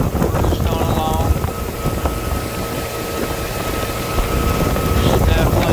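A Stingray cuddy cabin motorboat with a Mercruiser Quadrajet engine cruises along, its steady engine drone mixed with rushing water and wind buffeting the microphone, while someone speaks over it.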